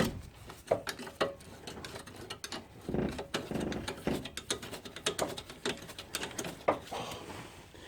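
Ratchet clicks as a hidden bolt on the back of a bracket is undone during a front strut replacement on a 1997 Mitsubishi RVR, an irregular run of close, sharp mechanical ticks with occasional louder clunks, no talking.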